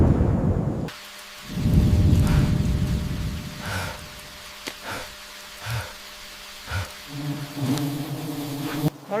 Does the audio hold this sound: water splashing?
no